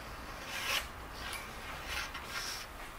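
Pencil tracing a design onto sandpaper, a steady dry scratchy rasp with a few brief louder strokes, close and continuous with no talk.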